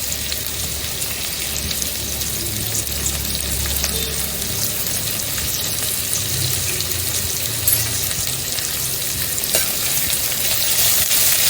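Steady sizzling and frying of onions sautéing in a pan on low flame fills the whole clip, a dense continuous crackle with occasional stirring, close and fairly loud, no voices.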